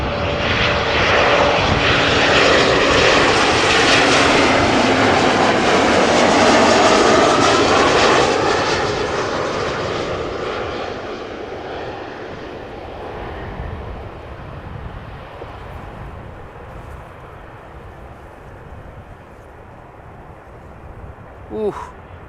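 A Boeing 787 Dreamliner landing at Amsterdam Schiphol, its loud jet roar swelling to a peak as it passes close, then fading into a long distant rumble with a brief thump near the end.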